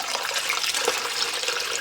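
Water pours steadily into a pot of split peas, filling it to the brim, with a continuous bright splashing rush throughout.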